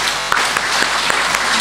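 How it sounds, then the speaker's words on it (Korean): A church congregation claps steadily for a short stretch, a dense, even patter of many hands. "박수 한번 하시죠."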